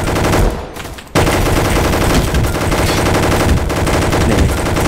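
Rapid automatic gunfire from the Roblox game Gunfight Arena rattles loudly in dense bursts, with a brief pause near the second mark before the sustained shooting resumes.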